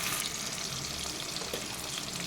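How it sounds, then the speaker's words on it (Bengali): Steady bright sizzle of sugar frying in hot mustard oil in a pan, continuous and fairly soft, with a faint watery crackle and no talk. "এক চামচের মতো চিনি দিলাম সরষের তেলের মধ্যে"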